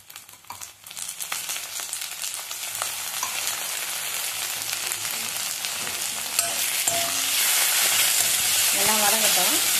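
Onions sizzle and fry with ginger garlic paste for chicken gravy. A dense, steady hiss swells and grows louder over several seconds, broken by a few stirring scrapes and clinks.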